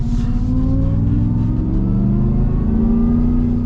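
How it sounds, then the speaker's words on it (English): Supercharged V8 of a 2023 Shelby F-150 Off-Road pickup revving steadily up, a loud close deep engine drone with rising pitch throughout, no talking. "Such a fun powertrain. It sounds super good, and it's not obnoxious."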